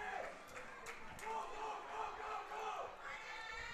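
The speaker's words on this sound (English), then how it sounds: "Everybody cheering on their teammates." Spectators at a girls' 3200m track race cheer their teammates as the runners come off the final turn: a steady, moderately distant crowd roar with scattered shouts, continuous throughout.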